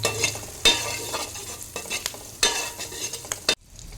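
Green chillies and dried red chillies frying in a pan while being stirred, with a steady sizzle broken by a few sharp scrapes of the spoon against the pan, then a sudden cut to near quiet.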